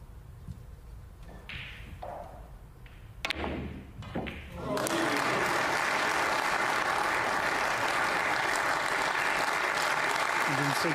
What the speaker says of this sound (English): the crowd appreciating the skill that Zhang Ander is showing here